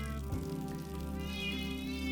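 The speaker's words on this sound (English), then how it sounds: "Hello, loud cat." A pet cat lets out a drawn, loud meow close to the microphone, a single sustained tonal cry lasting about two seconds.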